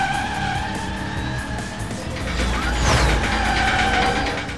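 A car drifts and power-slides in the Split/Second racing video game, its engine droning loudly while tires squeal in a rising, sweeping skid over several seconds.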